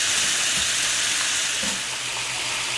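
Baby back ribs brown in a hot pan before pressure cooking, with a loud, continuous hissing sizzle close up and a few soft shuffles as the meat shifts.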